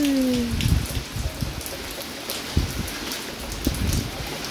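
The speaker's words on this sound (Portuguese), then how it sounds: "Olha aí, chuva mais gostosa, ó." Rain falls steadily in Sítio do Conde, Bahia, a dense close hiss of drops on surfaces with occasional louder splatters and no talking.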